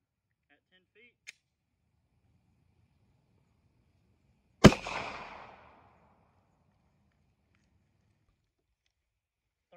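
A single sharp gunshot from a Glock 19 pistol with a 4.02-inch barrel, firing 9mm Winchester 147-grain Ranger T-Series rounds into ballistic gel from 10 feet, cracks once in otherwise near silence, followed by a short decaying echo.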